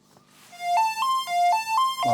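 A Moog IIIc modular synthesizer plays a short stepped sequence of bright, buzzy sustained notes, moving up and down in even steps, clear and alone.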